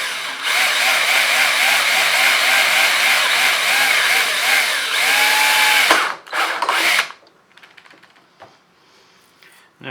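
A power drill bores a hole for a button in a car's tailgate trim. The motor whines steadily and loudly for about six seconds, stops, gives a few short bursts, then goes quiet.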